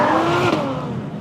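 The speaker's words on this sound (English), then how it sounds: "It looks like a Ferrari, it sounds like a Ferrari" A 2017 Ferrari 812 Superfast engine revs loudly and close, a brief, rich, rising roar with no voices.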